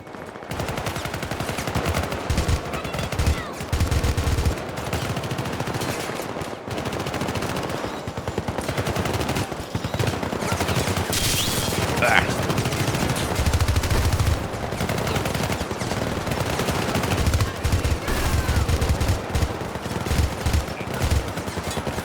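Sustained automatic gunfire from the 2012 video game Syndicate, dense bursts of loud machine-gun fire running almost without pause across the whole stretch, punctuated by louder heavy shots.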